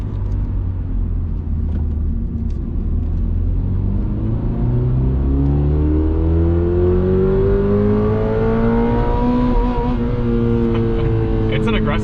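A 2022 Subaru BRZ engine revs up loudly with rising pitch, climbing steadily and holding near an aggressive rev limiter, close by and continuous.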